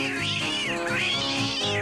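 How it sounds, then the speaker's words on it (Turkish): A cartoon cat meows loudly and continuously, drawn-out rising and falling wails close by, with no other voices. "Gözlerim beni yanıltmıyorsa bu bir kedi olmalı"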